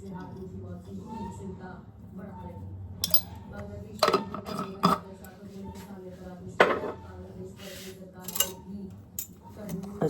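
Curd and semolina batter is mixed in a bowl with salt, making scattered clinks and taps of a utensil against the bowl, close and moderately loud, while someone talks underneath.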